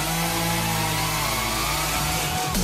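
A chainsaw runs steadily and loudly throughout, a continuous close engine drone with a slight dip near the end.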